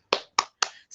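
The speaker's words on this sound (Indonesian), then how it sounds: "Nah, agar lebih semangat lagi kita belajar, kita tepuk semangat yuk." A class does a rhythmic spirit clap, with three sharp, evenly spaced claps followed by the start of a fourth, close and crisp with silence between.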